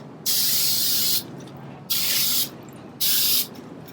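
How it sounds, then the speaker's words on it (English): Three bursts of spray adhesive hissing from a can, each lasting under a second, separated by short quiet pauses. "So give it a little test spray over here."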